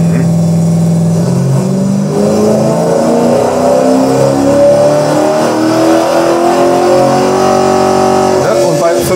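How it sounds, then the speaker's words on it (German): A racing engine on a roller dynamometer revs up in one smooth, loud rising ramp, its tone climbing steadily before dropping away at the end. "mit 500 Umdrehungen pro Sekunde vom Prüfstand die Drehzahlrampe hochgeführt"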